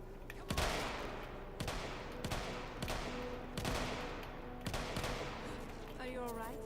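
Light machine gun fire in a modded Skyrim video game, repeated bursts of sharp gunshots in quick succession, loud and close, with a voice speaking near the end.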